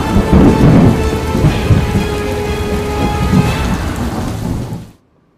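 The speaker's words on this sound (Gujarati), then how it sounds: "ઉમરપાડામાં ભારે પવન સાથે કમોસમી વરસાદ." Heavy unseasonal rain with strong wind and thunder in rural Umarpada near Surat, Gujarat, a loud continuous roar of downpour and low rumbling that cuts off abruptly at the end.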